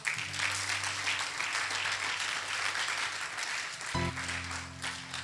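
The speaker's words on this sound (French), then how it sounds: "Acclame pour le Seigneur." A church congregation claps steadily in a continuous wash of applause, with a low sustained organ or keyboard drone beneath and a brief shift in the tones near the end.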